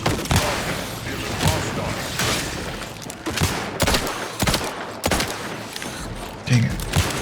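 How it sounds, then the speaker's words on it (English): Gun firing in The Outer Worlds 2: loud, evenly spaced single shots at a slow rate, each a sharp crack over a busy, noisy background of game action. "This gun shoots so slow."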